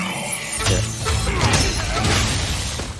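Glass shatters and crashes in a Mortal Kombat Sub-Zero vs Scorpion trailer, a loud sustained burst of breaking with bright tinkling debris and a heavy low rumble underneath, with no talking.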